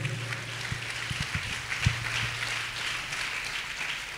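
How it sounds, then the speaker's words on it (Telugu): A church congregation claps in praise of God, a dense, steady patter of many hands in a reverberant hall with a few louder claps early on. "చప్పట్లు కొట్టి దేవుడు మహిమపరుద్దాం"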